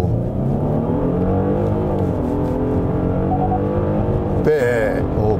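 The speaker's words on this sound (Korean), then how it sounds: "그럼 제대로 급가속을 한번 해보겠습니다. 스포츠 모드에다 두고요." A Genesis G80 3.5 turbo AWD accelerates hard in sport mode, its engine droning loudly and steadily from inside the cabin, with rising pitch broken by gear shifts and a brief sharper burst near the end.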